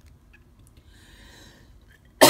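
A single sharp cough bursts out at the very end, loud and close, after a stretch of near silence.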